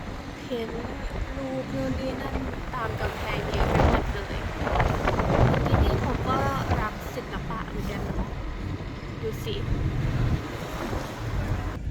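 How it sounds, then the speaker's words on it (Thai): Sea waves wash steadily along the Moroccan coast with gusty wind buffeting the microphone, a continuous broad roar that swells slightly midway while people talk over it. "ข้างหน้านะคะทุกคนก็จะเป็นทะเล อยู่ติดทะเลมากเลยตรงนี้"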